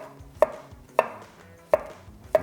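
A Ninja NeverDull premium knife slicing food on a cutting board gives four crisp, evenly spaced cuts, close and distinct, over a faint low background hum.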